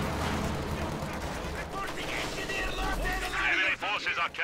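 Gunfire from a Company of Heroes battle, with sniper shots and incendiary rounds landing on engineers, rapid cracks and bursts layered over dense battle noise, under an excited commentator's voice.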